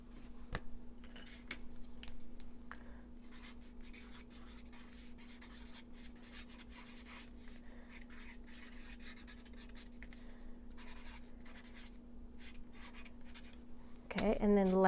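Pen scratching across paper while measurements are written down by hand, a faint run of soft scribbling strokes over a steady low hum, ending in a brief louder rustle.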